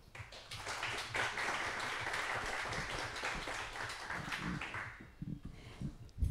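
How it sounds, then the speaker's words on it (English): Audience applause for the keynote speakers at a hacker camp talk on digital self-defense, dense steady clapping filling the room for about five seconds before tapering off into a few closer claps and handling noises. "Let's give a round of applause for them."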